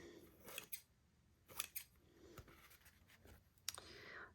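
A few quick, crisp scissor snips trim the edge of an altered playing card, spaced out over a few seconds at close range, with no voices.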